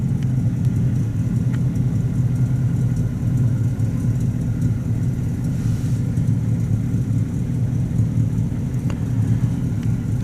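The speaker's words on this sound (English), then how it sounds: "that's definitely a gentle idle start" A 1950 Buick Roadmaster engine idling after a cold start, a low steady rumbling idle, close and continuous with no talk.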